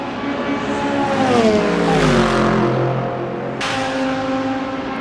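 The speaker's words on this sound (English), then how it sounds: "The screaming car, you can barely hear anything under that one." Corvette race car in a virtual 24 Hours of Daytona endurance race, engine screaming loud and close as it revs and shifts through a left-right-left complex, pitch sweeping down then climbing, other cars audible around it.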